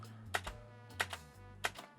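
Fast keystrokes on a computer keyboard come in three clustered bursts of sharp clicks, close and distinct, over a low steady electrical hum, with no voices.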